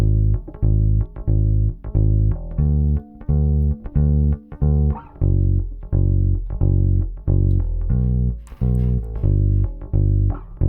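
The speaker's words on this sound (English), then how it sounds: "Bass would sound like this for the chorus." A steady, punchy bass line pulses in short repeated notes with brief gaps, loud and upfront with no voices.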